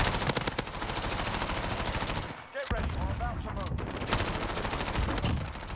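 MP5 submachine gun fire in Call of Duty: Modern Warfare, dense rapid automatic bursts filling the clip with a short break in the middle, loud and close, while a voice talks over it.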